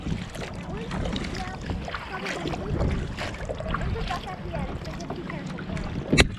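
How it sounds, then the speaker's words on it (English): Blustery wind buffeting the microphone on a kayak outing with a constant rumbling roar, close and loud, with faint voices mixed in and a sharp knock near the end. "It's super windy, guys."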